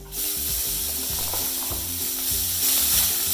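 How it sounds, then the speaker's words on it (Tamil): Chopped vallarai greens sauté in hot oil with fried shallots and curry leaves, a loud continuous sizzle up close with rhythmic stirring scrapes against the pan, no voices. "நறுக்கி வச்ச இந்த வல்லாரைக்கீரை அதில் ஆட் பண்ணுங்க."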